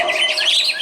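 Songbirds at an outdoor bird singing contest in Banyuwangi trill loudly and continuously in a close, bright burst of rapid warbling notes.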